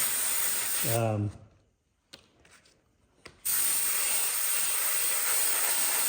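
A Harbor Freight six-hub airbrush sprays paint with a loud, steady hiss of pushed air that cuts off briefly, sputters in short bursts, then resumes at full strength.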